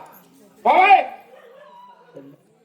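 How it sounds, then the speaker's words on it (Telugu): A dog at a village home gives one short, sharp bark or yelp close by, followed by faint, trailing sounds and quiet. "కుక్క అనేది మరుగుతూ ఉంటుంది"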